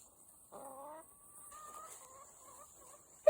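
Free-range chickens cluck on a pasture, a close, quiet run of short clucks and one longer murmuring call, with a sudden louder squawk at the very end.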